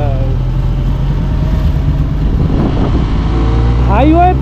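A motorcycle on a monsoon ride from Ranchi toward Dasham Falls crosses a small water crossing, its engine a steady close rumble with wind and splashing texture while a rider talks over it.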